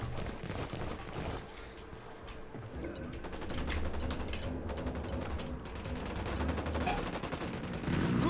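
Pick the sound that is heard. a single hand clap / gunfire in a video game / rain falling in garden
gunfire in a video game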